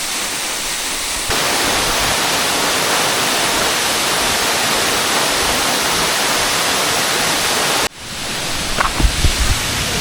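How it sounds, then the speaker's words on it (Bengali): Main waterfall of the Boalia trail at Mirsarai roars as a steady, dense broadband rush close by, cutting off briefly near the end before the flowing water noise returns with a few small knocks. "এটা হচ্ছে বোয়ালিয়া ট্রেলের মেইন ঝর্ণা বলে এটাকে।"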